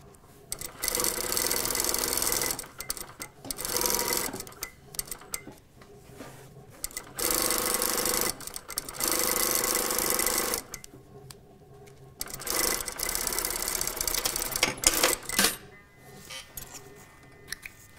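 A sewing machine stitches skirt panels in several bursts of rapid stitching, stopping and starting with short pauses between runs.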